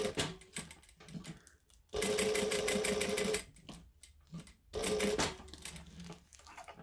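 A sewing machine stitches over an opened-out fabric seam in two steady bursts of rapid mechanical whirring, with quiet handling noises in between.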